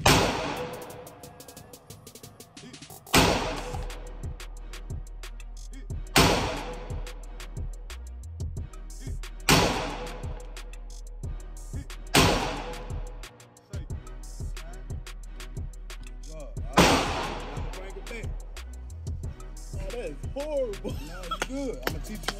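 Pistol shots at a gun range ring out about half a dozen times at irregular intervals, each a loud sharp crack with a ringing decay, over a low steady background hum.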